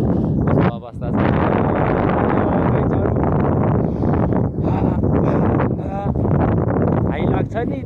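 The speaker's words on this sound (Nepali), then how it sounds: "हावा नन स्टप लगाइरहेको छ, एकदम चिसो छ होइन" Cold wind blows without a pause at a snowy mountain temple, a steady and loud rushing roar that buffets the microphone the whole time. There are a few brief dips in the gust.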